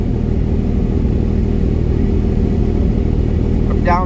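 A 1999 Lamborghini Diablo Roadster engine idling close by, a loud, steady low rumble that holds level as the revs settle toward a sweet spot.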